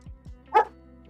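A single short dog bark rings out close by, preceded by two low sliding tones, then quiet.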